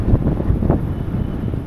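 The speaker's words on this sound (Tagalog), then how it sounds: "Oh, sarap ng hangin." Outdoor wind blowing strongly across the microphone, a low rumbling buffet with brief gusts, alone without voices.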